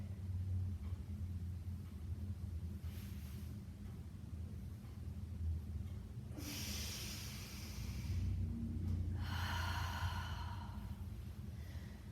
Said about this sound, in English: And then I took a nice deep breath in and a breath out.